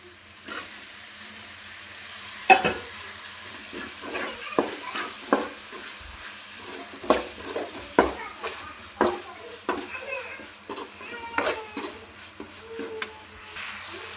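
Ginger, garlic and tomatoes frying in a pan for egg curry, with a faint steady sizzle broken by scattered clinks and taps of a spoon stirring.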